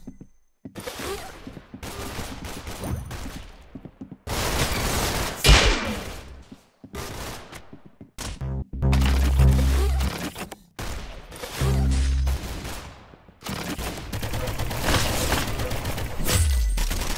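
Rapid bursts of gunfire from the Roblox game Arsenal crack out in loud volleys and sustained automatic strings, separated by short gaps of near silence.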